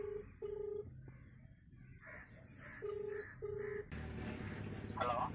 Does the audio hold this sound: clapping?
no